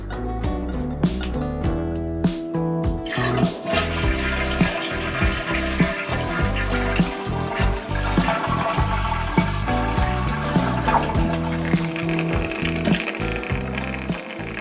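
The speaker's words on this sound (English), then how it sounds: "after I flush the toilet, it takes such a long time for the water to refill" A home toilet with a slow-filling tank and a HydroClean fill valve refills after flushing, giving a steady, continuous rush of running water with no talking.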